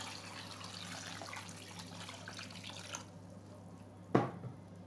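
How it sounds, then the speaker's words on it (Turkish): Water poured from a tap over strawberries in a bowl, a steady low trickle and splash running for about three seconds, then quiet, ending with one brief louder knock or splash. "Şimdi üzerine suyumu ilave ediyorum."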